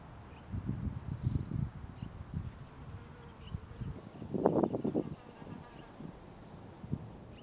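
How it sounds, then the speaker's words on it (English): A Bembix sand wasp digs a tunnel in a sandy pathway, giving faint, intermittent low buzzing bursts close by outdoors, with a stronger burst partway through. "This Bembic sand wasp is constructing a tunnel in the middle of the pathway where it will catch a fly, bury it, and lay its eggs inside for its larvae to eat."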